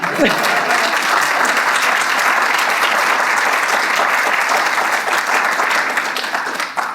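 Loud, sustained applause from an audience, dense clapping filling the whole stretch without letting up.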